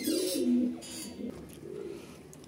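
Pigeons coo softly in a low, rounded call, a couple of short phrases close by in a quiet coop with faint background noise.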